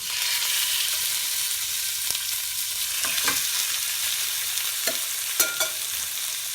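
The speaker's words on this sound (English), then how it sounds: "We're going to seal the pork chops first." A couple of pork chops sear in hot ghee in a pan, giving a steady, loud hiss and sizzle throughout with a few sharp pops and spits, and no voices.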